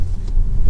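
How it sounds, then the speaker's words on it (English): A 2024 Chevrolet Trax 2RS taking large train track bumps at speed gives a loud, steady low rumble of road and suspension noise inside the cabin, with a dull thump near the end. "Hitting these big train track bumps a little bit faster this time."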